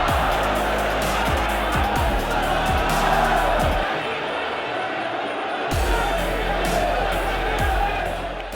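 A packed, overexcited crowd at a Muay Thai fight roars and cheers continuously, a dense wall of noise with low rumbling underneath, while a voice talks over it.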